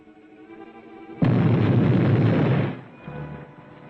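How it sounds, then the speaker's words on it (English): An explosion effect from a 1945 Charlie Chan mystery film, set beneath a bank, erupts suddenly as a loud, dense roaring boom lasting over a second, then drops to a lower rumble under a steady background hum. "Explosion."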